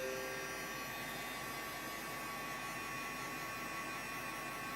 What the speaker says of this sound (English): quite addicted to my little dryer.